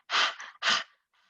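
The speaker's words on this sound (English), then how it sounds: "you open up your mouth, you stick out your tongue, and you do breath of fire" Two forceful open-mouthed exhalations, like yoga breath of fire with the tongue stuck out, then a faint third breath, close and loud with no speech.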